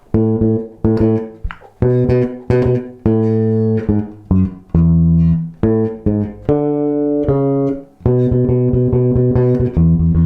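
Bass guitar plays the closing bars of a song alone, a run of firm, sustained notes in a steady rhythm, close and loud with no other instruments or voices.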